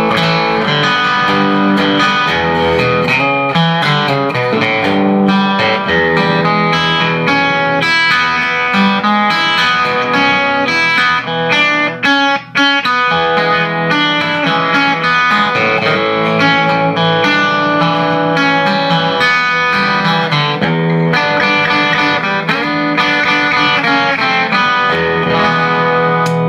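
Collings I-30 electric guitar with P90 pickups and the volume turned up, playing a continuous loud, driven, distorted passage with chords and single notes, with no talk.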